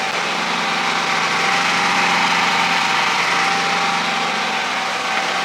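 A portable generator powering an aluminium welding setup with a Lorch welder and water cooler runs at a steady, loud drone, continuous and unchanging with a buzzing vibration, no speech over it.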